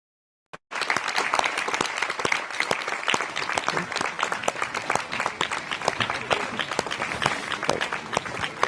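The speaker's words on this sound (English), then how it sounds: "they instead watch the applause the European Parliament gives to Julian Assange" The European Parliament chamber breaks into sustained applause for Julian Assange, a dense, steady wash of many hands clapping after a sharp onset, continuing evenly throughout.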